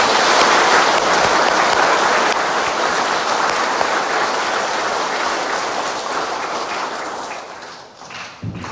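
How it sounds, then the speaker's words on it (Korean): A church congregation applauds during an Easter Vigil Mass, a loud, dense wash of many hands clapping that holds steady and then slowly thins and fades toward the end. "박수 부탁드립니다."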